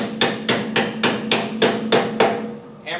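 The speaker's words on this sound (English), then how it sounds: "Hammer it down, be careful not to smash your finger" Hammer strikes driving a wheel weight onto a wheel rim during wheel balancing: seven to eight steady, evenly spaced metallic taps, close and clear, followed by a brief pause and a soft final knock.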